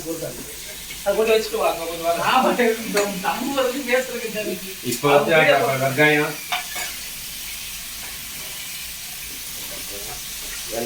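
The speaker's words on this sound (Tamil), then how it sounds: "வெங்காயம் தக்காளி பட்டை கிராமு எல்லாம் வதங்கிடுச்சு பாருங்க நல்லா வதங்கிடுச்சு" Onion, tomato, cinnamon and cloves sautéing in a pan for a beef curry give a soft, steady sizzle beneath a person speaking for several seconds, then the sizzle carries on alone and faint.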